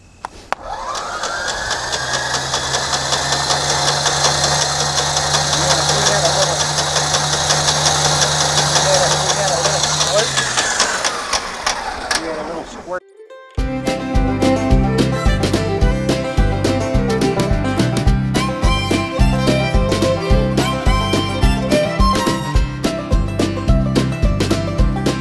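Old abandoned airplane engine, after more than 20 years unused, turning over on the starter with a steady whine, then catching and running with loud, rapid, uneven propeller-engine pulses that fill the rest of the clip.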